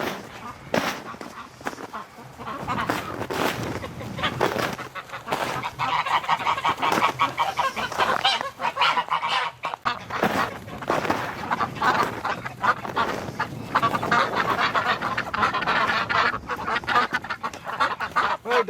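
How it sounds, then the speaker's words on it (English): A flock of ducks quacks and honks continuously nearby outdoors in winter, loud and overlapping, with a person's voice occasionally mixed in. "Come on, ducks."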